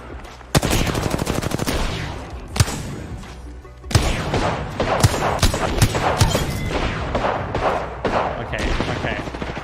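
Rapid automatic gunfire rattles through an Apex Legends fight, with bursts of shots, several heavy thumping impacts and dense overlapping weapon fire that keeps going throughout, loud and close.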